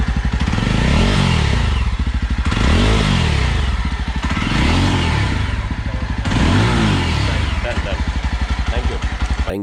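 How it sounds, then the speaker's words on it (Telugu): A Yezdi Roadster motorcycle engine idles loud and close at a showroom in Banjara Hills, a steady thumping beat that swells through several blips of revving and then settles back. "ఒకసారి ఈ బైక్ ఇంజన్ ఆన్ చేసి చూద్దాం."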